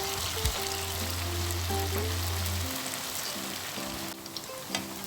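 Cauliflower florets frying in hot oil give off a steady close sizzle with soft crackles and occasional stirring scrapes, continuous throughout with no voices.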